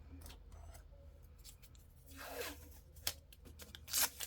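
Washi tape torn and pressed down in a craft journal, quiet scattered rips and rubbing scratches with a brief sharper tear near the end, close and soft.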